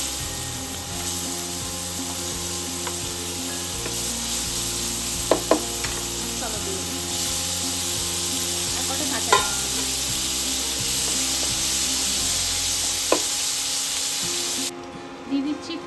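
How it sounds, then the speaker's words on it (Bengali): Chopped onions and black cumin sizzle steadily in fish oil in a pan, a loud continuous frying hiss with occasional stirring scrapes and clinks. "মাছের তেলে প্রথমে দিয়ে দেবো একটু কালো জিরে, দিয়ে দেবো পেঁয়াজ কুচিগুলো"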